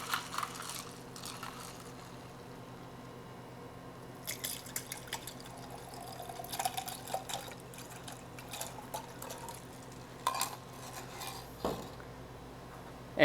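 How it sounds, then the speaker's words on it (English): Grapefruit soda stirred in a glass, with faint clinks of a spoon against the glass and small liquid drips at irregular intervals over a low, steady room hum. "I'm just going to give that a stir."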